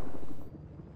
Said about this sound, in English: Trying to get in this chopper here